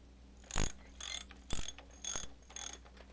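A broken globe being repaired with a wrench in the video game Septerra Core: five quick mechanical ratcheting clicks and clanks, spaced about half a second apart, crisp and close.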